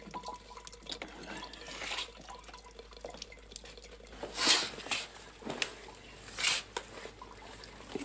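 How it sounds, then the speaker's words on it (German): Water drips indoors in a flat, quiet and close, a few irregular wet splashes and drops falling at uneven intervals over a faint background hiss. "Was für eine Tropferei, für eine Verdammte."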